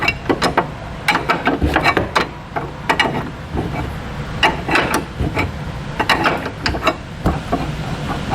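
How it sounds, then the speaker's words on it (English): A hand wrench works loose the tow hook nut on a 2020 Jeep Grand Cherokee, giving repeated ratcheting clicks in short uneven bursts, close and fairly loud, with brief pauses between strokes. "we'll just have to go a little further with our wrench."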